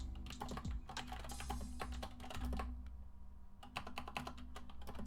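Close, steady typing on a computer keyboard as a project name is entered, quick clusters of clicks over a constant low hum, with a brief lull in the middle before the tapping resumes.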